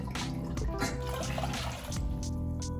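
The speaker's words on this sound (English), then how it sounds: "now I'm just gonna put about 2 cups of water in the pot." About two cups of water poured into a cooking pot while making a ginger and garlic concoction give a close, continuous splashing and trickling with a few bright drips.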